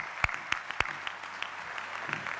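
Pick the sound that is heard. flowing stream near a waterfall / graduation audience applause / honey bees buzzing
graduation audience applause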